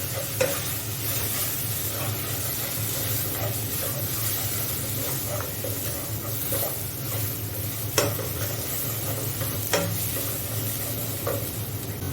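Spice powders, including roasted coriander and curry masala, sizzle and hiss in a frying pan for chicken curry while a spoon stirs and scrapes with occasional sharp clicks, continuous and close.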